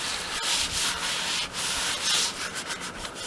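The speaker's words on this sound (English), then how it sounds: "I'm going to keep sanding for a while in hopes of getting that out" Wooden serving tray being hand sanded to smooth out chainsaw marks, quick repeated rasping strokes close up with no talk.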